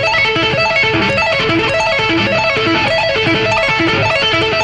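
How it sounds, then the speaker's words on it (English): Rapid electric guitar tapping arpeggio, with hammered-on notes cycling through repeating patterns without picking, loud, dense and continuous with no talking. "And if we speed it up"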